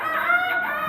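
A rooster crows in one short, continuous harmonic call lasting under a second, fairly loud and steady, with no talking over it.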